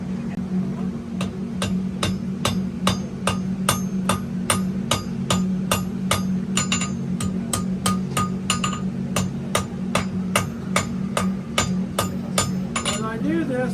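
A blacksmith hammers hot steel to draw out a knife tip during a demonstration, landing steady, evenly spaced ringing blows about twice a second, close and loud over a constant low hum.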